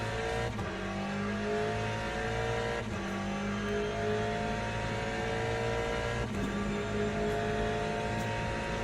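A race car engine drones steadily in a racing video game at Circuit de la Sarthe, the Le Mans track, with sustained tonal revving and gear-shift dips throughout, fairly faint and with no talk over it.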